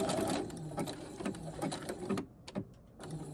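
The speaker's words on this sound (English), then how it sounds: "And then I backstitch a couple of times before I take it out and cut it." A sewing machine backstitches fabric in short, rapid mechanical bursts, close and clear, stopping briefly near the end before a couple of quick stitches and then running again.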